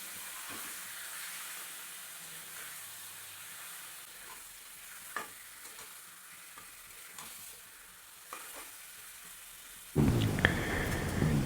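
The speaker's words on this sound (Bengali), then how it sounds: "এবার চিকেনটা হালকা করে আমি এখানে ফ্রাই করে নেব" Chicken pieces fry in a pan with onion, ginger and garlic, giving a soft continuous sizzle with occasional stirring knocks, then a sudden loud burst of hissing near the end, with no voices.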